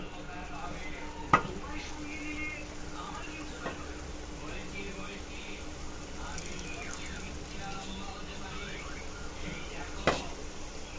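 Oil left from frying fish goes into a pan of spices being cooked down for a hilsa curry with potatoes and flat beans, making a steady, soft sizzle with occasional stirring clinks while a voice talks faintly.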